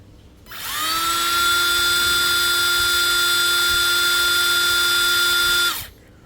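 A DCA ADPL208 cordless brushless impact driver spins up at medium speed, holds a steady high electric motor whine for about five seconds, then winds down and stops.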